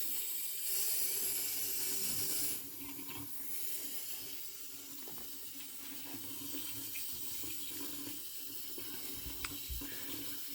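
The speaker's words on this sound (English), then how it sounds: "We got cold water going in. Flushing both sides of this." Cold water rushes steadily through a tankless water heater being flushed on both sides, a continuous hissing flow that softens slightly after a brief louder start, heard alone.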